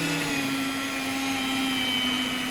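An electric mixer blends cream cheese and sugar for a three-ingredient cheesecake, giving a steady, loud motor whine with a constant hum that holds evenly and close throughout.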